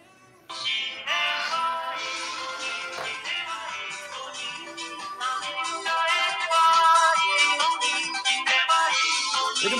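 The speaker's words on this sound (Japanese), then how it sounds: "電話してみようか。" An outgoing phone call rings through as a continuous melodic ringtone, steady and fairly loud for nearly ten seconds with no one speaking over it.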